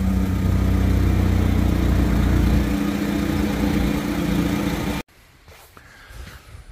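A farm tractor engine running steadily and fairly loud as the machine is moved before scrapers are hooked up in starting rain, then it drops away abruptly, leaving quiet outdoor background.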